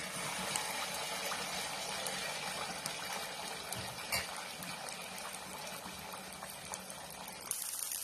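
Sweet appam batter poured into hot oil in a kadai sets off a continuous bubbling fry, steady and moderately quiet, close by with no talk.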